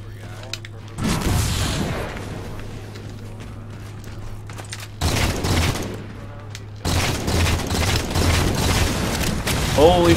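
Halo 4 Infinity Slayer match with grenade blasts and gunfire in broad bursts, loud booming stretches broken by quieter gaps, over a steady low hum with some game sounds mixed in.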